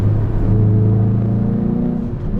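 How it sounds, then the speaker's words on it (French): Hyundai i20N hot hatch in N mode, its sporty exhaust giving a loud, close, throaty drone with steady low harmonics that slowly shift in pitch as the engine holds and eases, with no voices over it. "Et l'échappement, franchement, est assez sonore, hein."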